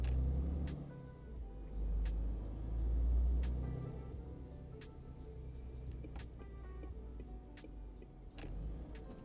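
A low, rumbling truck engine in Euro Truck Simulator 2 drones steadily, swelling a little in the middle, with faint clicks and ticks scattered over the top.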